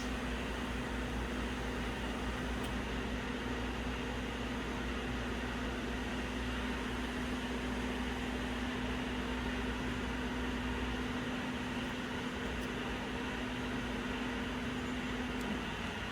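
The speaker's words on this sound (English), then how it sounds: "the carriage start to moving up" Carriage motor of a single-pass UV printer hums steadily as the carriage moves up, a constant close mechanical drone with faint fan-like noise and no speech.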